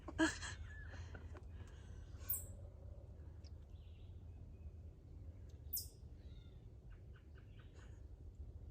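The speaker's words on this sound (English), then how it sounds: "There's definitely plenty of birds out here." Faint, scattered bird chirps and short calls outdoors over a low background rumble, with a few sharper tweets standing out.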